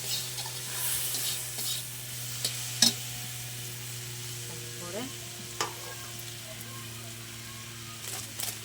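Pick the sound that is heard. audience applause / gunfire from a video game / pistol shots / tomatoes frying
tomatoes frying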